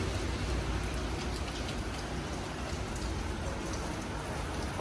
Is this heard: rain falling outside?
yes